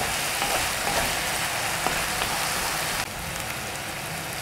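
Green sambal frying in a pan while being stirred, a steady dense sizzle running throughout with a slight drop in level toward the end.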